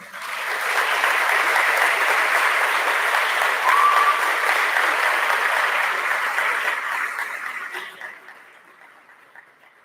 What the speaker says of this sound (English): Please join me in giving a heartfelt round of applause and congratulations to Nurse Kathy Nolan.